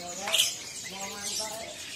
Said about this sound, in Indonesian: Nah, ini ada kutilangnya ya.